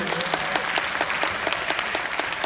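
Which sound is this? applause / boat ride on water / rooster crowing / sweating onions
applause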